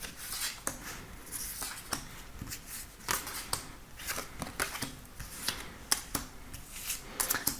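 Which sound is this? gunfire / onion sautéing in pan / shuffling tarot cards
shuffling tarot cards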